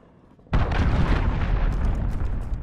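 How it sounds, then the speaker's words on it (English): Cruise missile strike in Call of Duty Modern Warfare, a sudden heavy blast after a quiet moment, then a long roaring rumble with scattered debris crackle. "Enemy cruise missile incoming"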